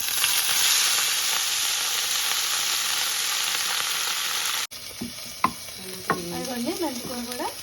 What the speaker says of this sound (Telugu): మెంతికూర కడిగేసి మెంతికూరను కూడా ఫ్రై చేద్దాం